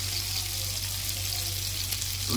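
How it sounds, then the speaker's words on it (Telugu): Small Krishna river fish frying in a pan over a medium flame, a steady loud sizzle and crackle of hot oil running continuously, with no talking. "కొంచెం మీడియం ఫ్లేమ్లో పెట్టుకొని ఇవి వేయించుకుంటే చేప అయితే లోపల వరకు వేగిద్ది"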